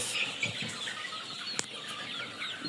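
Sonali hybrid chickens on a poultry farm make faint scattered clucks and rustling amid a continuous hiss of background noise, with one sharp brief knock partway through and no speech.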